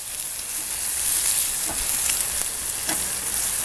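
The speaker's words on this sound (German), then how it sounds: "Jetzt kommt noch ein bisschen Gemüse auf die Platte." Vegetables sizzle loudly on a hot fire plate griddle outdoors, a constant crackling hiss broken by occasional scraping stirs, with no voices.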